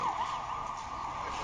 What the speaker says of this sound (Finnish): Sirenit huutaa. Ambulanssi menee tuolla tuon rakennuksen takana.